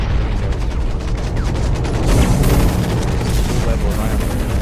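Mech guns firing in the video game Hawken, a dense rapid barrage of booming shots and blasts over a heavy rumble, loud and continuous, with a voice talking underneath.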